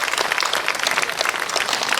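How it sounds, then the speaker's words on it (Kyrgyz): Steady audience applause at a Kyrgyz TV contest held around the World Nomad Games, with dense, continuous clapping from a crowd filling the whole moment at a fairly loud level. "Кол чабуулар."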